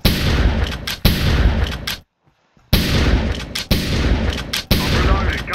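Heavy gunfire from a 50 cal in the blocky shooter game Minecraft, loud close booming bursts nearly filling the stretch, broken by one brief silent gap before the shots resume.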